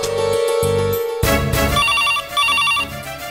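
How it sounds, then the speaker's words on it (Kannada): A telephone rings with a repeating electronic ringtone, loud and close, in pulsed bursts with short pauses between them and no one talking over it. "ಫೋನ್ ಬಂತು ಅವ್ರದೇ ಇರ್ಬೋದು ನೋಡ್ತೀನಿ ತಾಳು"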